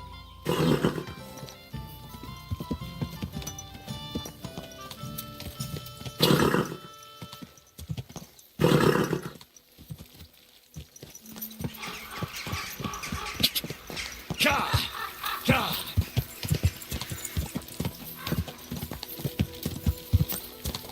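Rhythmic clip-clop of horse hooves close by, joined by a horse's whinny and snorts, with brief pauses before the hoofbeats pick up again, from the video game Kingdom Come: Deliverance 2.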